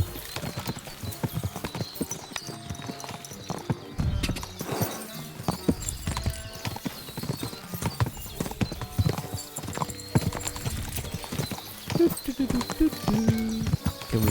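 Horse hooves clip-clop steadily in Kingdom Come Deliverance 2 while riding, with a brief whinny, under ongoing talk and game sounds.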